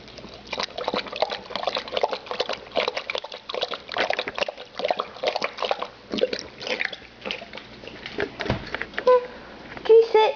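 Lucy the dog laps and slurps water from a bowl in a run of wet, rhythmic licks close by, with brief splashes and a louder clink near the end.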